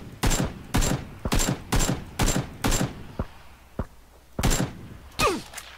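Video game gunfire fires in a run of sharp, evenly spaced loud shots, followed by a pause with a couple of thin clicks, then two more shots.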